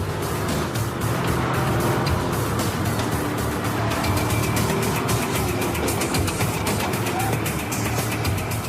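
A Gumpert Apollo sports car drives fast on a 21-kilometer race course, its engine roaring loudly and continuously with wind and road noise, heard from inside or close by, with a voice talking over it.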